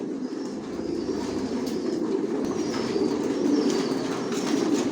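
Long-distance racing pigeons in a loft keep up a continuous soft cooing and rustling murmur, a steady flock chorus heard up close without talk.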